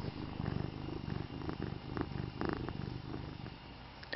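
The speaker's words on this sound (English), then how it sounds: "He's purring now." A house cat purrs steadily up close, a low continuous rumble with a rhythmic pulse that runs through the whole stretch without any voices.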